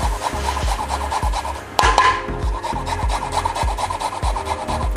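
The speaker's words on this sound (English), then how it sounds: "Makes life so much easier when you grate garlic and ginger." Garlic and ginger grated against a grater while cooking plant-based tofu larb, giving a steady rhythmic rasping scrape with regular strokes throughout, loud and close with no talking.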